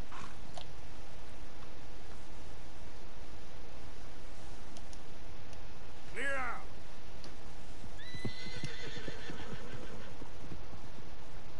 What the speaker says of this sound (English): O cavalo saiu correndo? Ou é esse aqui?